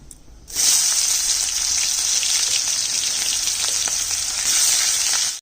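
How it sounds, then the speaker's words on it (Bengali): Chopped onions hit hot oil seasoned with dry red chillies, cumin and bay leaves for a mutton curry, bursting into a loud, steady, close sizzle that holds without a break until the end. "এবার দিয়ে দিচ্ছি কাটা পেঁয়াজ"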